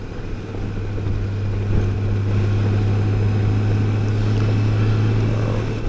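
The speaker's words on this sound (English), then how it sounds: "And just out here enjoying the motorcycle." Continuous low engine drone with a steady hum and wind rush from a Honda Goldwing motorcycle riding at cruising speed near the water in winter.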